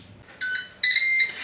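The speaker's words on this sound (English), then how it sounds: "And we've beeped." A Ninja Speedi cooker steaming broccolini beeps to signal that cooking has finished: a short electronic tone, then a longer, louder one, both clear and close with no talking.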